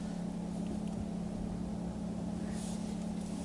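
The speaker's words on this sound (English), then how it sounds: "You hear Fred's engine Getting warm now" A side-by-side off-road vehicle's engine idles and warms up on a trail in the Yukon, producing a steady, continuous low hum with a strong tonal drone, close and unchanging throughout.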